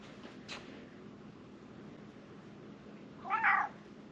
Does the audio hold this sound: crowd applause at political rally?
no